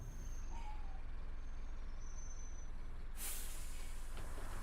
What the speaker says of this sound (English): we should be able to hear the bus a little bit better